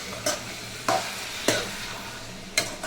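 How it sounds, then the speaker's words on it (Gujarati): Poha is stirred and tempered in a hot pan on a home stove, crisp sizzling punctuated by four sharp scraping strokes spaced about a second apart, close and moderately loud with no talking. "અહીં હું પૌવા વઘારીશ."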